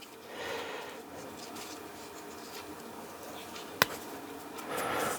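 PTFE tape rubbing and crinkling as it is wound around a pipe fitting while a leaking Nescafe Alegria coffee machine is repaired. Soft continuous scratchy friction comes up close, with one sharp tap in the middle.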